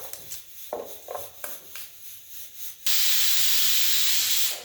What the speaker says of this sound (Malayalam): ഇപ്പം നമ്മളെ ഒരു വിസിൽ കഴിഞ്ഞു.